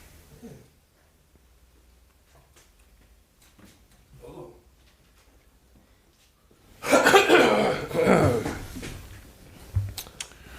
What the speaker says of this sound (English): You've been wasting all that time coughing.